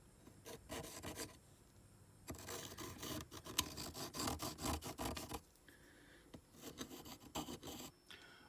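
Cherry wood pistol grips for a revolver being rough shaped, heard as repeated rasping strokes in bursts separated by short pauses, close but fairly quiet.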